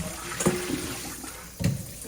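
Water sloshing and splashing in a sink while sweet potatoes are washed by hand, two distinct close splashes over a steady low running-water background, with no talk.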